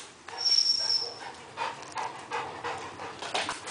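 A big dog pants in quick rhythmic bursts close to the microphone, each rapid breath clearly audible, with a brief high whine near the start and no talking.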